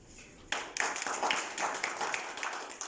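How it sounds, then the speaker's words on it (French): Applause from a modest audience at a graduation ceremony starts abruptly after a quiet moment and carries on at a fairly even level, with individual claps audible within the fairly soft sound. "les autres vont vous applaudir"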